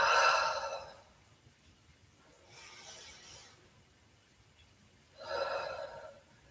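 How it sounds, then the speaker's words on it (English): Deep breathing during a live yoga session, three breath sounds: a strong one at the start, a softer middle breath, and a final exhale near the end, airy and close with quiet pauses between. "Deep breaths here."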